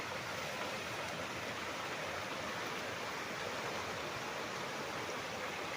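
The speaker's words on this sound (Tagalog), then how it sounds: "Ayan ang ilog mga kaprops." A river running muddy after rain beside a farm lot in Liliw, Laguna gives a steady, faint broadband rush of flowing water, unbroken and with no voices.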